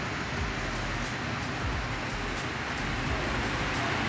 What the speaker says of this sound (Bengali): এই বৃষ্টিগুলো বেশি দরকার আছে,